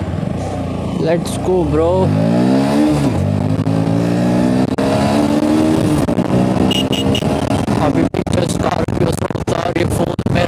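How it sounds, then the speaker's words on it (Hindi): A motorcycle started with a key in Bhopal, its engine rising in pitch as it revs up and pulls away, loud and close, while someone speaks briefly over it. "ये लगा ली चाबी और ये चालू कर दी गाड़ी अपन ने।"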